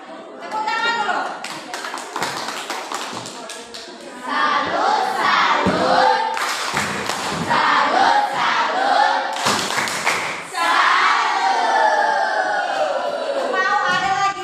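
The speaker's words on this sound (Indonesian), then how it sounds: "Tepuk tangan dulu." Classroom students clap in bursts between loud chatter and shouts, with thumps and taps, the clapping stopping and restarting under lively voices.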